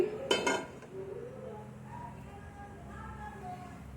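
A metal pan knocks and clatters briefly as it is set down in a home kitchen where pickle is being made, a sharp close clank near the start followed by quiet kitchen ambience.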